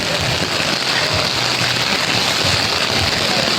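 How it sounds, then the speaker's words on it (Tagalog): Heavy typhoon rain pours down in Manila, a loud, dense, unbroken hiss of drops pounding surfaces up close, steady throughout with no pauses and no voices. "Grabe, ang lakas ng ulan ngayon"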